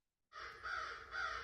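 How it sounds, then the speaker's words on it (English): A crow caws in one drawn-out, harsh call that swells twice, fairly loud and alone, with a slight echoing tail. "we would often hear a crow call, a happy one, echoing back."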